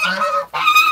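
African geese honking nearby on a farm, two loud nasal honks in quick succession with a brief break between them.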